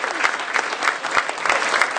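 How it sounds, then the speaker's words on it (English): Audience applause for the candidates at a Thousand Oaks candidate forum, a steady dense round of clapping from a room of people that carries through the whole moment at even loudness. "How about a big hand for all of our candidates, yourselves included? Big round of applause"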